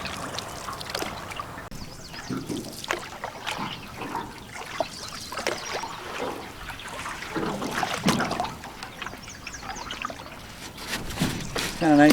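Canoe gliding across a clear lake among lily pads with paddle strokes, soft trickling and dribbling water splashes recurring irregularly, close by, alongside people talking.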